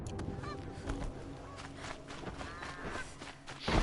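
Geese honk repeatedly in Horizon Zero Dawn, sharp nasal calls scattered over a few seconds with footsteps and outdoor ambience beneath.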